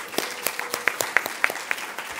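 A closing-ceremony audience at a university presentation competition applauds, with a dense patter of many clapping hands and a few sharper, louder claps standing out nearby, briefly and without speech.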